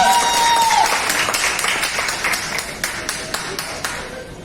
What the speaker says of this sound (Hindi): केवल तालियां।